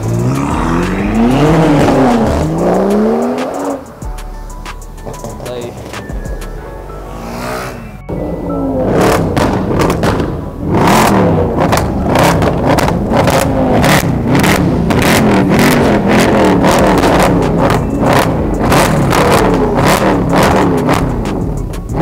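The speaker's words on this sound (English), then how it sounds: "got ourselves a Lamborghini Hurricane rolling in" A Lamborghini Huracán at a car meet revs hard and loud nearby, its engine note climbing and falling in repeated sweeps, then blipping in sharp bursts during the last half.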